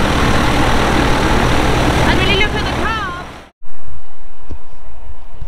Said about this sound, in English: So it's a 1900 RPM, it's running in balance on the